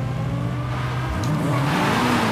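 A Dodge Challenger SRT Demon with a supercharged 6.2-litre V8, driven in the Forza racing game, revs hard and climbs in pitch, dips briefly at a gear change, then pulls up again, loud and alone.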